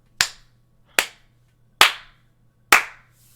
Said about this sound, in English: Clap, everybody, clap.